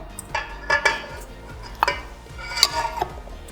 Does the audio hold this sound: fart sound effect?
no